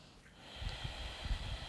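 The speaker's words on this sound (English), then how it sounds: "deep Ujjayi breathing with sound" Deep Ujjayi yoga breathing, a slow, steady, audible breath with a soft rushing hiss and low rumble, close and quiet, with no talking.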